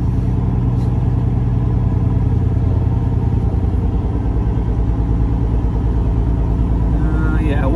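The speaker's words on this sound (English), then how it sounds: "This is a 50 foot long spread axle." An 18-wheeler pulling a 50-foot spread axle trailer drives along steadily, its engine giving a loud, continuous low rumble with clattering, heard close up from the cab.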